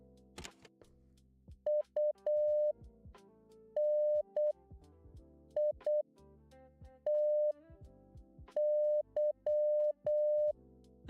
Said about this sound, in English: I get it's Morse code